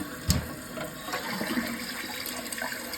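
Water rushes and trickles as a toilet tank refills after a flush, a steady close hiss and splash with a brief louder gush near the start, no voices.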